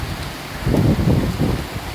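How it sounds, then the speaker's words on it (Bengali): Steady rain with a dense, rushing wash of sound and gusts of wind over it, close to the microphone. "প্রচুর বৃষ্টি হচ্ছে এবং বেশ সময় ধরেই বৃষ্টি হচ্ছে"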